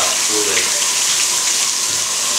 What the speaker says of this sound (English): let's turn this water off